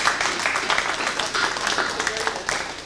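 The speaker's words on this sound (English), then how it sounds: "Bean Maros, a round of applause for Bean." Scattered clapping from a small crowd at an advisory council meeting, steady and moderately loud, with some voices mixed in.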